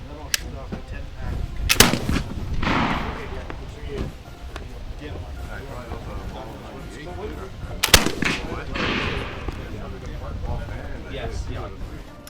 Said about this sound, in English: I'm going to do the Snyder 150 next, and then I'll shoot off a 10-pack